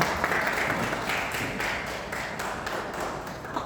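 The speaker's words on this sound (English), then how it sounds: "Okay, take applause for us." Applause after a classroom presentation: a dense, fairly soft wash of many hands clapping in a room, fading slightly toward the end.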